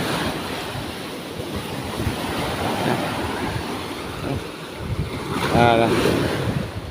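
Strong ocean waves surge and crash at sea with heavy wind buffeting the microphone. A brief voice cuts in near the end.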